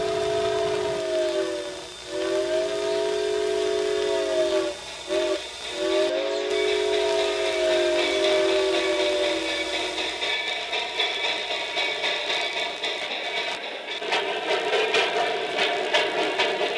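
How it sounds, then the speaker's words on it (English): A train's whistle blows several long blasts in the distance, followed by a steady rumbling approach into town and rhythmic clatter of wheels on rails. "Let's go watch a train come into town."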